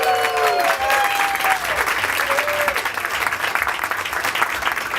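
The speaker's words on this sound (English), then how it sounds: "Let's have a big round of applause for Chris Evert." An audience at a tennis Q&A event applauds Chris Evert, with dense, sustained clapping that is loud and close. A short vocal tone rises briefly at the start and again near the middle before the clapping carries on alone.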